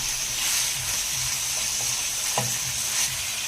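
Liver fries in a hot pan with coriander just added, giving a loud, continuous sizzle with occasional soft clinks and scraping knocks from a utensil.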